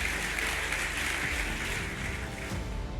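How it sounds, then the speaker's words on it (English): Audience applause at a summit hall, a dense continuous wash of clapping heard briefly, with a low rumbling tone underneath. "You deserve a round of applause"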